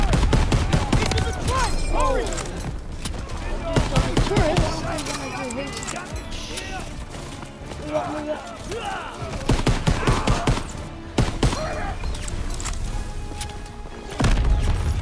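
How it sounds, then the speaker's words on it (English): Dense bursts of MP40 submachine gun fire in the Call of Duty WWII video game, with rapid shots, booms and crashes layered under a busy battle mix and game voices throughout. "MP40 there, the OG gun."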